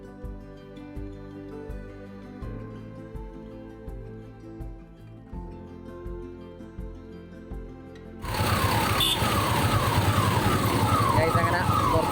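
An ambulance caught in a traffic jam sounds a loud, repeating wailing siren that bursts in over traffic noise for the final few seconds, after a quieter stretch of steady tonal sound.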